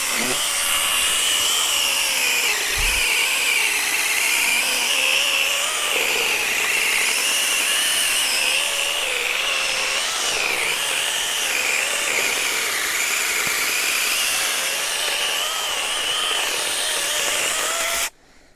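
A cordless AVANT PRO 2022 pruning chainsaw with a still-sharp chain cutting through wood, a loud continuous high-pitched motor whine held steadily for about eighteen seconds before stopping abruptly, no voices.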